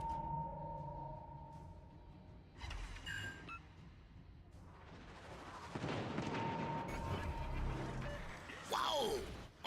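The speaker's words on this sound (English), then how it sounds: "Our main turret took a big hit" A tank's main turret takes a heavy hit during an online armored-combat video game, a deep booming impact and rumbling blast within continuous in-game noise, with distant radio chatter.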